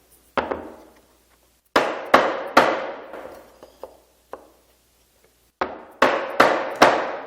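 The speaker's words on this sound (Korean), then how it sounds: "얇은 목재를 이 사이에 대고 망치질을 해주시면 딱 맞게 들어갑니다" A hammer taps a thin wood piece laid over a wooden corner joint to seat it, striking in irregular clusters of crisp, close knocks with brief pauses between, no talking.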